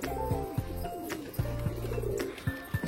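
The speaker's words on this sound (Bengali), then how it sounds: "এই যে দেখো পায়রা দাঁড়াতেই পারছে না" Domestic pigeons with clipped wings coo in deep, repeated throaty phrases, several overlapping close by in a steady rhythm with no talking.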